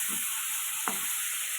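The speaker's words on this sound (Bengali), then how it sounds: "এবার চিংড়ি মাছগুলোকে ভেজে নেব," Marinated prawns fry in hot mustard oil, giving a steady, close hissing sizzle with a few soft pops and no voices.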